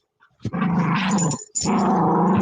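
A dog growls low and rough in two long sustained rumbles close by, separated by a brief pause, loud and alone without speech.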